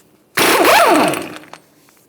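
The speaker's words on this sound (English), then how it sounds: "We'll use a 32mm socket to remove this." A loud burst of a power tool whirring and rattling, like an impact wrench spinning off a 32mm axle nut on a 2006-2011 Honda Civic, lasting about a second before stopping.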